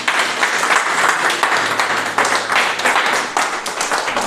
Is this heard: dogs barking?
no